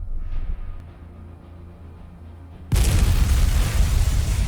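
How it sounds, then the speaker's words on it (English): A mine explodes and stops a tank in a Ukrainian combat zone: after a low rumbling drone, a sudden loud broadband blast hits and keeps roaring to the end, close and with no speech. "an explosion halts the tank's progress"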